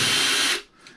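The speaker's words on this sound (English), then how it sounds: "I wonder if I can get this power tool in here." A power tool whirs loudly inside a Traxxas Fiesta Rally RC car during a spur gear replacement, a brief high whine that cuts off abruptly and leaves a faint tail.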